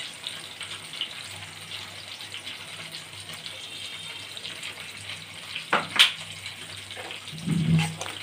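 Ginger paste and spice masala sautéing in a pan for a cauliflower and catla fish curry, a low steady sizzle broken by a brief utensil scrape and a dull knock near the end.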